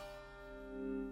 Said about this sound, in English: you can also do what's called volume swells